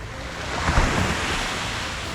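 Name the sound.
ocean waves at Speightstown, Barbados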